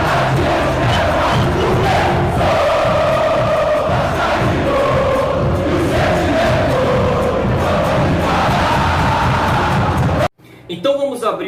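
A channel intro sting for a football news show, built from a loud, dense roar of stadium crowd chanting and cheering that runs steadily and then cuts abruptly near the end to quieter, sparser sound.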